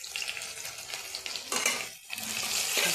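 Cumin, onion, green chilli and bay leaf frying in oil for a cabbage and pea chorchori, a loud crackling sizzle with spatula stirring and a brief dip before the hiss surges again.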